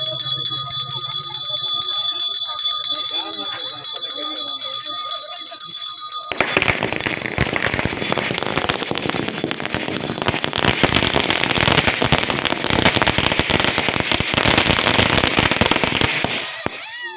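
Firecrackers burst in a rapid, loud, continuous crackling barrage at a village celebration for a new government KSRTC bus, following a quieter stretch of ringing and crowd noise with voices.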